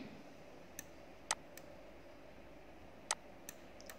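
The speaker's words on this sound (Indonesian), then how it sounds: "Setelah kita masukkan suara mesin tik 2" Faint, sparse mechanical typewriter key clicks tap out at irregular intervals over a quiet background hiss.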